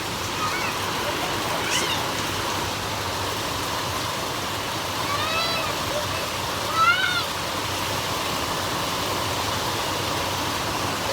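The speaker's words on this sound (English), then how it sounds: "now it's raining, and I mean it is absolutely pouring down now" Heavy rain pouring down outdoors, a dense, steady, loud hiss and roar that stays even throughout with a few faint splashy swells.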